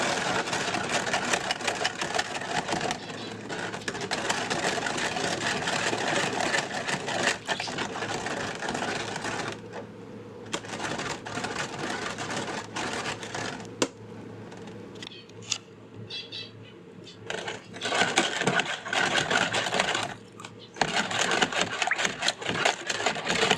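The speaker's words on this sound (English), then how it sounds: "I like the sound it makes of the sugar that's being grinded" Sugar grinding against a container while agua fresca is mixed, a continuous gritty, whirring rasp that runs loud and steady, dips briefly partway through, then resumes near and strong.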